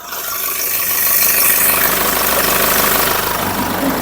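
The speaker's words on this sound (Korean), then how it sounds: "중요한 엔진 사운드도 바로 들려드릴게요" The engine of a SsangYong Rexton Sports Khan pickup with a lifted body and tuned suspension idles with the hood open, a loud, close, steady mechanical hum with a faint belt noise, with no talking.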